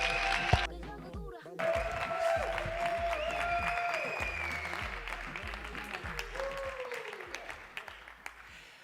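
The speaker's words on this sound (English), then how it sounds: "big applause for her" An audience at a keynote event in Madrid breaks into applause that swells and holds, with some cheering and crowd noise mixed in, while a voice speaks over the clapping.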